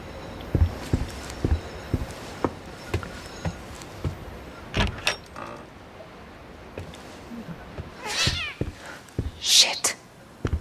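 A cat meows in the video game The Medium. Scattered clicks and thumps lead to a couple of sharper meows near the end, with people talking underneath.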